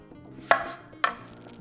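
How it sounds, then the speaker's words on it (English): Knife chopping through fresh jalapeño stems on a cutting board: two sharp, close cuts about half a second apart over a quiet kitchen background. "So what we're going to do is just cut the stems off"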